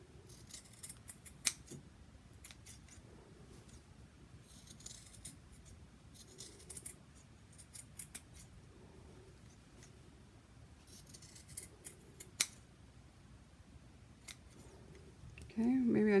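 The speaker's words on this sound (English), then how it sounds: "we're going to go ahead and make some cuts so that way it will be easy to turn" Scissors cut and trim fabric for a bowl cozy, producing quiet, close, intermittent snips and crisp clips scattered through a fairly hushed room.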